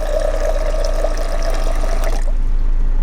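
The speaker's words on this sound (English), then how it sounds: "So we're gonna fill this up now. Hopefully I don't spill too much water." Water pours steadily into a water jug with a continuous rushing trickle, then cuts off abruptly near the end.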